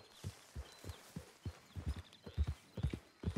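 Horse hooves clip-clop steadily in Red Dead Redemption 2, a rhythmic run of close, clear hoofbeats that quickens slightly toward the end, with no talking.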